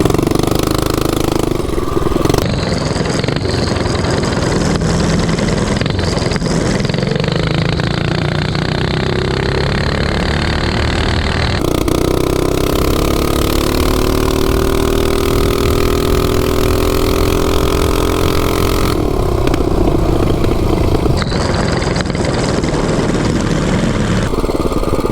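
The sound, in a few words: mini bikes racing, Rusty against the RSV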